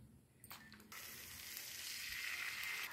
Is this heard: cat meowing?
no